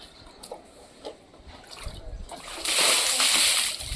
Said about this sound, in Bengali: পুরো জলটা নিয়ে মাথায় ঢেলে চলো।